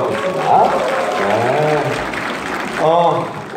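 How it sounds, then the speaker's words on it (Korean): Applause from a concert audience after a duet performance, a steady wash of clapping with voices and some singing-like tones rising over it near the start and end. "다시 한 번 더 큰 박수 보내주세요"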